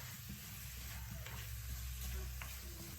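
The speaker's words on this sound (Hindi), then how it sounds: "इसको हल्का सा भूनेंगे, मिक्स करेंगे।" Potatoes with salt lightly frying and being mixed in a pan, a soft steady sizzle with faint scraping strokes, quiet and continuous.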